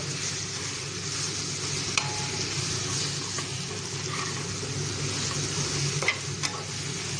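Fried paneer is stirred through sizzling masala in a pan, a continuous frying hiss with scraping and a few sharp clinks of the spoon, close and with no talking.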